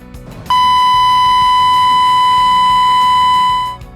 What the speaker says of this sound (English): the H2S alarm